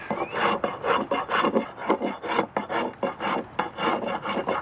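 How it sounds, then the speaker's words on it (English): A fine spokeshave is pushed and pulled across wood in quick repeated strokes, each a dry, raspy scrape, close up and fairly loud with a steady rhythm. "This is just a finer spoke shave."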